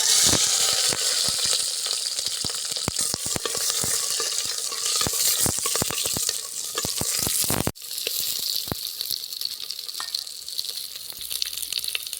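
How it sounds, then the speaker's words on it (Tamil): Cut green chillies sizzle and crackle steadily in hot oil, a dense close frying hiss with frequent sharp pops and stirring clatter, dipping briefly before the sizzle resumes. "எண்ணெய் நல்லா ஹீட் ஆயிடுச்சு அடுத்தது பச்சை மிளகாய் கட் பண்ணி வச்சுருக்க பச்சை மிளகா சேர்த்துக்குவோம்"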